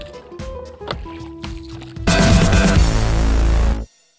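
A woman rows a fishing boat: a few light knocks and splashes of the oars come first, then a loud, close rush of churning water that stops abruptly.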